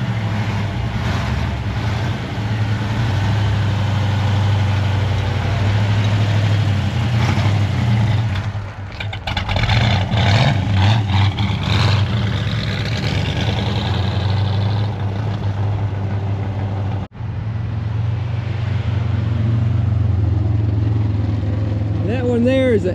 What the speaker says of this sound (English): There is an 89 turbo Trans Am.